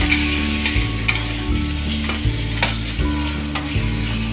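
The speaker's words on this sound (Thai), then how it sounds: "แม่ขออนุญาตใช้มือเลย ผัดจนเข้ากันค่ะ" Pork belly for Thai braised pork is stir-fried by hand in a hot pan, with a steady close sizzle and rhythmic stirring and scraping pulses roughly every second, loud and unbroken.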